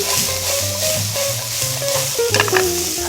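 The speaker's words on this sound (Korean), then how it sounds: "바삭한 느낌이 나도록 이렇게 볶아주시고요." Bacon and squid stuffing ingredients stir-fry in a pan with a little added oil, a steady close sizzle broken by scraping stirs, with no talk.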